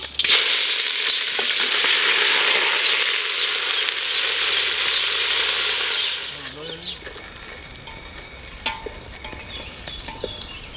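Curry leaves and onion frying in hot oil, a loud steady sizzle for about six seconds that then eases into quieter crackling and stirring, with faint bird chirps and a voice in the background.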